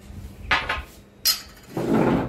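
A lid is set over a pot of set curd in a home kitchen, giving two close metallic clinks, one sharp clatter, then a brief scraping rustle.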